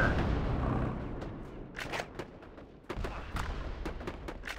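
Cannons fire in a real-time strategy video game battle, a volley of sharp booms and cracks, several in quick succession, fairly quiet beneath game ambience.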